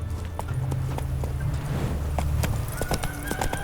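Roach the horse in The Witcher 3 gallops in with quick, steady hoof clops and a whinny, fairly close and loud over a low rumbling game ambience.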